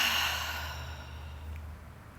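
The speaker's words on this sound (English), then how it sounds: "Take an inhale through your nose. Through your mouth, exhale." A slow yoga exhale pushed out through the mouth, breathy and soft, fading gradually over about two seconds with no talking.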